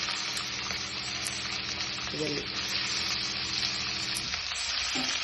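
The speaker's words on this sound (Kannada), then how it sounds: "ಅದಾದಮೇಲೆ ಮೆಣಸಿನ್ಕಾಯಿ ಮತ್ತು ಈರುಳ್ಳಿ ಒಟ್ಟಿಗೆ ಹಾಕೋಣ." Chillies and onions go into hot oil with curry leaves for upma, a continuous dense sizzle and crackle of frying, close and steady throughout with faint stirring.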